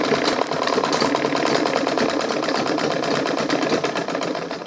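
A sewing machine stitches leather to the bottom of an Ankara fabric bag, running in a fast, steady, close-up mechanical chatter that continues without a break.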